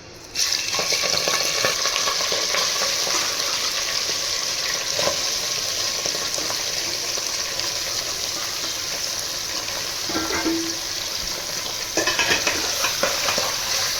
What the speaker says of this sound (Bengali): মাংসটা একটু ভেজে নেব। 5 মিনিট এটাকে তেলের সঙ্গে ভেজে নেব।